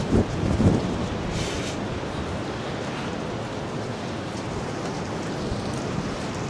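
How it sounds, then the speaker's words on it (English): Heavy rain and gusting wind lash the coast during a nor'easter, a dense, steady roar that holds loud and unbroken throughout, with a few stronger buffets near the start. "standing in this horrendous rainstorm"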